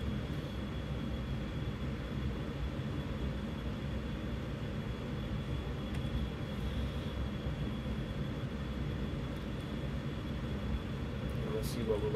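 A steady, droning aircraft engine hum in the X-Plane 10 flight simulator continues evenly at cruise, with no breaks, and a speaker talks over it at times.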